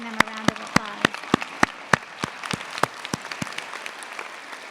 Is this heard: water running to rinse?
no